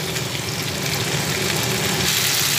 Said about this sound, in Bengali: এবার চিকেনটাকে কষিয়ে নেব।